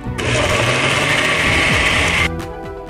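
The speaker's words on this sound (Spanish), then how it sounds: "todo esto lo llevamos a licuar." A blender whirs loudly through an almond Nutella mixture with condensed milk, a steady high motor roar close up for about two seconds before cutting off.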